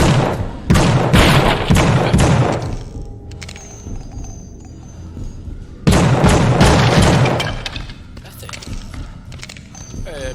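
Gunfire in the horror video game The Suffering, two loud booming bursts of shots with echoing decay between them, over game ambience with speech-like sounds mixed in.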